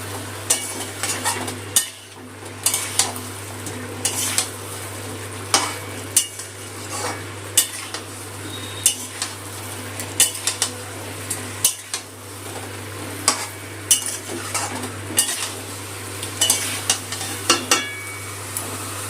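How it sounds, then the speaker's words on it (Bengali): Fried potatoes are stirred into spices in a pan. Repeated metal scrapes and clinks of a spoon sound close up over a soft, continuous sizzle. "ভাজা আলুটা মশলাতে কষিয়ে নেব।"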